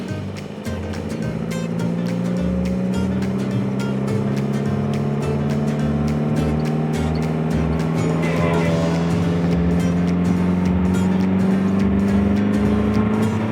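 An MG TC roadster driving on the road, its small engine droning steadily close by with rising pitch as it accelerates, and wind and road rush over the top.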